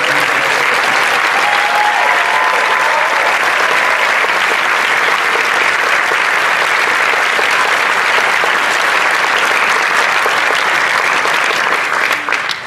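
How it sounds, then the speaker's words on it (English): A large crowd at a graduation ceremony applauds loudly and steadily, sustained clapping that carries on without letup before tapering slightly at the very end. "Let's have another round of applause for 2017."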